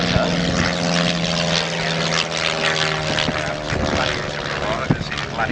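A Gloster Gladiator propeller biplane flies at Old Warden airfield, its engine a steady, loud drone with a sustained tonal hum that holds for the whole stretch, while people talk over it.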